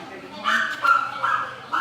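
A dog named Kimmy at a veterinary clinic gives a few high, nasal whimpering yips in quick succession, close and fairly loud, with voices nearby.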